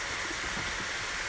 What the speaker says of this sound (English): A little steam.